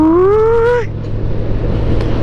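A Kawasaki ZX14 motorcycle engine accelerating, a strong droning tone climbing in pitch for under a second before breaking off into a steady rushing rumble.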